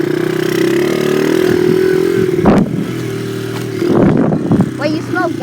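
A dirt bike engine idling close by with a steady mid-pitched drone, rising in a couple of short revs, while people talk over it.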